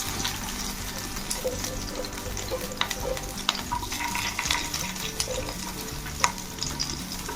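Green chilies and garlic fry in hot oil with bay leaf for an egg dalma cooked in a clay pot, a continuous crackling sizzle with clinks of stirring, close and fairly loud, with no talking.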